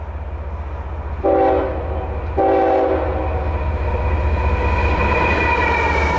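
A train rumbles steadily nearby while its horn sounds two blasts, a short one followed by a longer, sustained one.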